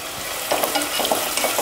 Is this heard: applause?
no